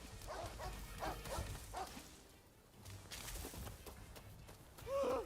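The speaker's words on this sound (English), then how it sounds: "Look at all these dogs here." Dogs in a video game bark and yip in short bursts over game ambience, fairly faint, with a whimper-like sound and a brief lull midway.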